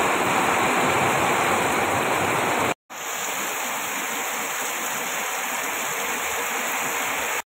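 Heavy rain pouring down on a rainy day in Bengal, a loud dense unbroken hiss that cuts out abruptly for a moment and then resumes just as strongly.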